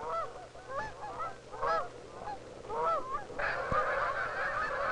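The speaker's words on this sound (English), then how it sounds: "More familiar, perhaps, are the handsome Canada geese, long-distance migrants that also fly twice a year between southern United States and Canada." Migrating Canada geese call in a series of nasal honks, some overlapping, clear and fairly close, followed by a short burst of broader wing or water noise.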